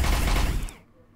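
Full-auto gunfire in the sci-fi RPG Deep Sky Derelicts: a loud, dense burst of rapid shots for most of a second, cut off abruptly and leaving a short fading tail.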